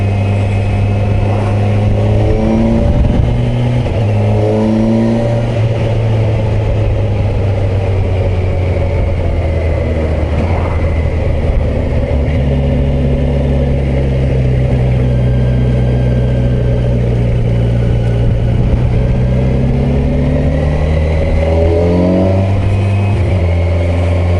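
A 2021 Kawasaki Versys 1000 SE Grand Tourer with a four-cylinder engine is ridden on the road, its loud, steady engine drone rising and falling through smooth, linear revs and gear changes, with wind noise underneath.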